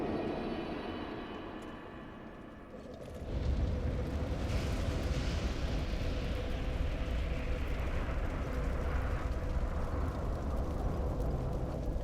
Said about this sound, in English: The fire's coming outside of the bowl.